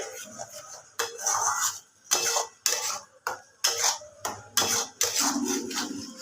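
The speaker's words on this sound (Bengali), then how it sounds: "খুব ভালোভাবে মশলাটাকে একটুখানি নাড়াচাড়া করে নিতে হবে" A spoon scrapes and clinks against a pan while spice masala mixed with beaten yogurt is stirred for Kashmiri aloo dum; bursts of metallic scraping repeat roughly every half second to second, close and fairly loud, with no talk.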